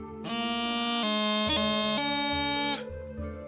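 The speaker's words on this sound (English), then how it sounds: "a low A with the grip up to C, it's going to sound like this" On the bagpipe, a low A is held, then a rapid grace-note grip snaps up to a sustained C, all over a steady buzzing drone that stops abruptly at the end.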